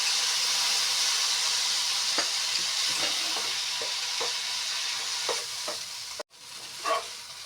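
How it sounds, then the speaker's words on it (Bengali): Rice-flour chow mein with soy sauce and vinegar is stirred in a pan with two utensils, giving a constant bright sizzle broken by scraping clicks and a brief sudden gap near the end. "একটা দিয়ে ভালো হচ্ছিল না, তার জন্য দুটোটা দিয়েই নাড়িয়ে দিচ্ছি"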